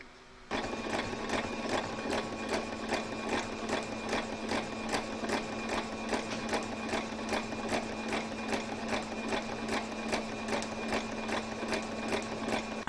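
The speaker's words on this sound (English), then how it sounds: "I'm going to stitch in the ditch on the last join here" Sewing machine stitching in the ditch along the last join of a quilted table runner with green thread, starting after a brief pause and then running steadily with a fast, even mechanical rhythm, close and clear.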